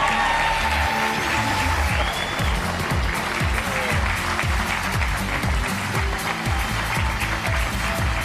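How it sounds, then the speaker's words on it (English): Loud, sustained applause from a large corporate kickoff audience greets chairman and CEO Randall Stephenson, with scattered cheers and a thumping music beat underneath throughout. "Please give a big round of applause to Randall Stevenson"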